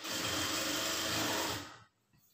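A sewing machine stitches blouse cloth along a marked line in one quick, steady run of about a second and a half, then stops abruptly into near silence.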